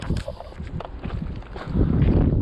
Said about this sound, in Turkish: Ciddi bir de rüzgar var aslında